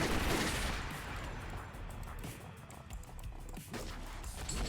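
Gunfire in a video game, rapid bursts of shots and clattering fire at a faint, distant level, loudest at the start and again near the end, with no voices.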